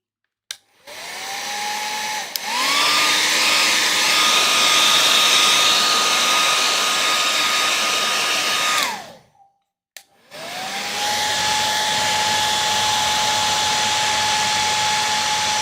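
A hair dryer blows on wet watercolor paint of a beach landscape, with a loud, steady whir that starts, runs for several seconds, cuts out, and then starts up again.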